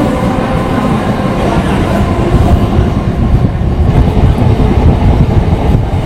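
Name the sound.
Kharagpur–Howrah local train arriving at Panskura railway station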